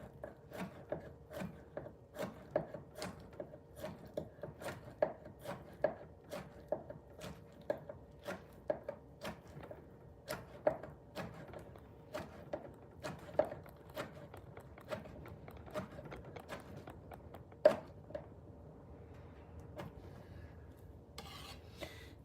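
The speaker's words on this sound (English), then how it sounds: "next we're gonna slice up some shiitake" A knife slicing shiitake mushrooms on a cutting board, crisp regular chops in a steady rhythm of about one per second, close and fairly quiet with no talking.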